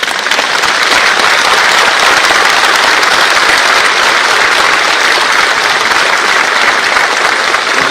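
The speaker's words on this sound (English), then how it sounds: "Really, it deserves applaud which you have given." Sustained, dense applause from a large audience at a formal event with the Chief Justice of India, loud and steady for the whole stretch with no speech over it.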